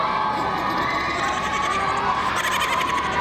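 Crowd of boys shouting and yelling during circumcision operations in the Philippines, a steady loud wash of many young voices blended with cheering, continuous throughout.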